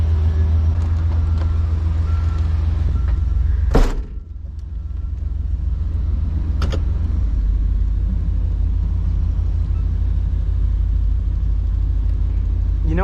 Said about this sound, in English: it ain't actually difficult to drive a wrecker like this